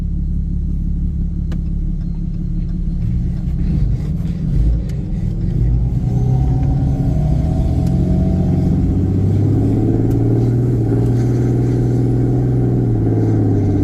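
A fifth-generation Cummins diesel pickup truck, with a deleted emissions system and a condition that makes it shift hard, accelerates with a loud, close, continuous engine rumble. Its pitch climbs and drops as it changes gears, and no one speaks.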